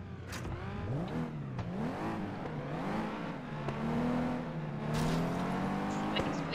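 Cars in a FlatOut 2 race on the Farmlands track, engines revving and whining through gear changes, steady and fairly close with pitch rising and falling as the pack accelerates.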